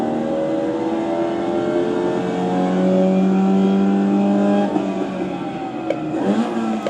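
A race car engine in the iRacing simulator at Daytona screams at high revs, sweeps downward through a downshift, then climbs again, loud and close with no talking.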